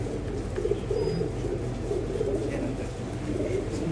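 Pigeons in a city loft coo in low, soft, repeated murmurs against a steady background hum, fairly close and moderately quiet throughout.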